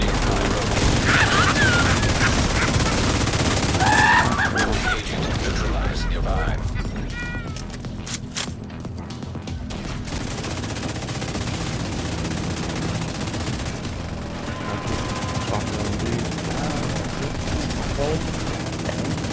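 Light machine gun fire in The Division, sustained rapid shooting up close within a chaotic firefight, mixed with other game sounds while players talk over it.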